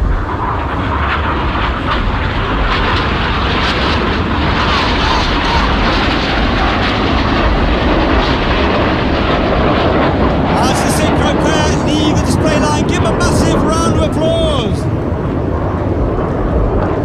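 Red Arrows jets roar past at the 2022 Bournemouth air show, a loud continuous rumbling engine roar that swells with a high hissing surge late on, under a commentator's voice.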